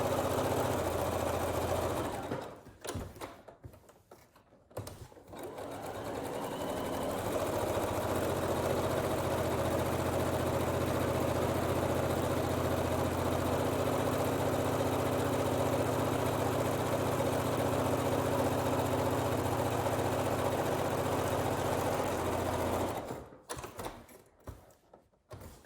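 A sewing machine runs a zigzag stitch along the seam of a fabric envelope pillow cover. Its steady, close motor whir is heard alone, with a brief stop near the start and another toward the end.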